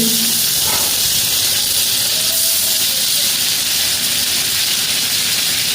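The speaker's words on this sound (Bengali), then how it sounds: "এখানে আমি বাটার দেওয়া দিচ্ছি" Butter sizzling in a hot pan with raw chicken pieces and oil, a steady, close hiss that runs the whole time with light crackle and no talking.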